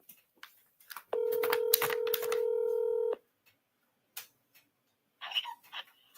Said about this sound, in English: I'm getting ready to call her again